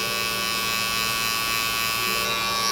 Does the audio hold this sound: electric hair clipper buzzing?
yes